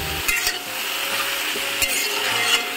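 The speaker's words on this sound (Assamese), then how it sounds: "ত' এতিয়া মই অকণমান লৰাই দিলোঁ।" Potatoes and ridge gourd stirred and frying in a wok, with scraping strokes of a spatula over a steady close sizzle, a few sharper scrapes standing out.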